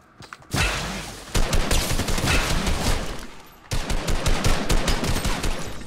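Loud bursts of rapid gunfire from the video game Fortnite rattle in close, continuous volleys, with two sharp fresh barrages breaking in after brief lulls.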